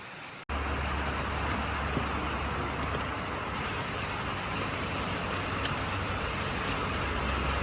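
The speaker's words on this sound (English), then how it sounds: "And it's raining once again." Steady broadband hiss of rain falling on a barn roof, continuous and fairly close, with a low hum underneath and no talking.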